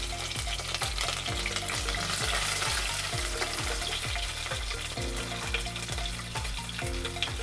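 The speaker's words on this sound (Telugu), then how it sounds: "ఇప్పుడు పచ్చిమిర్చి వేసుకుందాం." Green chillies and whole biryani spices fry in a hot pan for a veg biryani, making a continuous dense sizzle and crackle with spoon stirring throughout, close and fairly loud.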